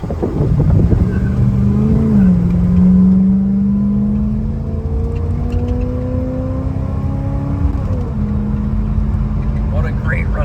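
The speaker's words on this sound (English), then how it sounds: "What a great running car." A 1980 Chevrolet Camaro Z28 V8 runs close by, its engine note rising slowly and steadily as it pulls along, with a brief shift near the end and steady road rumble underneath.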